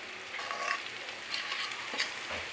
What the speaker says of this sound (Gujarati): ઓકે ચલો, હવે આમાં પૌવા એડ કરી દેવાના.